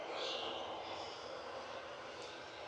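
A Lufthansa Airbus A321 Classic departs Manchester Airport for Frankfurt, its engine roar a steady distant rush that fades slightly across the short span, with no clear talk over it.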